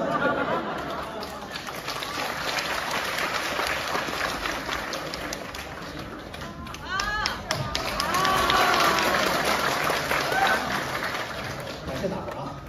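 Audience applause and cheering at a crosstalk comedy show in a traditional theater, busy clapping mixed with crowd chatter and voices, swelling louder in the second half.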